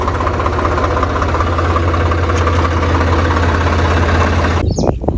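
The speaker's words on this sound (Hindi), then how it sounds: "हमने नाला पार लगाया, ट्रैक्टर को यहाँ वहाँ से कुदा दिया" A tractor engine idles steadily in a farm field with a loud, continuous low throb and a rhythmic knock, then breaks off abruptly near the end.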